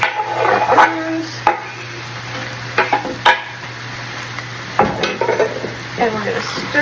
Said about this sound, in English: we're going to stir, I'm going to turn the heat down a little bit. I'm going to stir that up.